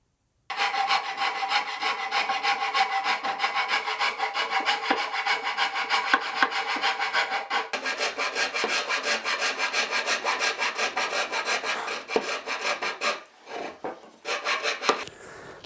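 Hand sawing through a wooden guitar top to cut out the F-holes, a dense run of quick rasping back-and-forth strokes, close and loud, with a brief pause near the end before a few final strokes.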